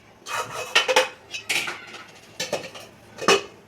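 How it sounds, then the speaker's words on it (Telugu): A lid set down on a cooking pot of partly cooked rice for mutton biryani, giving a few sharp metallic clanks and rattles in close, quick succession. "ఇప్పుడు ఒకసారి మూత పెట్టుకున్నాం"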